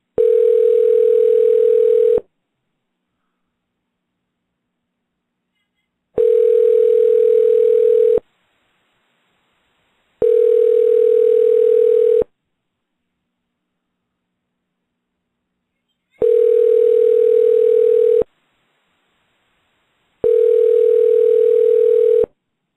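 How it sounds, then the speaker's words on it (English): Telephone dial tone during a redial attempt: a steady, loud electronic hum that sounds in evenly spaced two-second blocks separated by silence, five times in all. "I'm going to try to dial him right back here."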